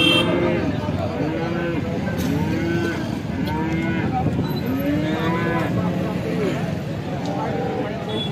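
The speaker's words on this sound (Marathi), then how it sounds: "आपण पाहू शकता शेतकरी दादांची गाई आहे, शेतकरी बांधवांची गाई आहे, चांगली तयार गाई आहे." Cattle low repeatedly at a cow market in Alephata, with several drawn-out moos rising over a busy crowd, while people talk nearby throughout.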